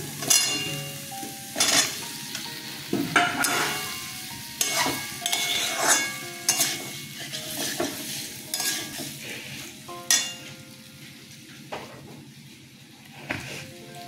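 Pieces of gathi kochu (taro) fry and are stirred in cooked spiced masala in a pan, giving a steady sizzle broken by repeated scraping stirs and light clinks of the spoon against the pot, all close and without talk.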